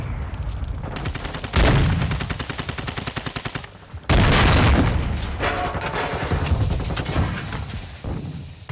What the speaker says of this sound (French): elle est bien ce fusil à pompe, franchement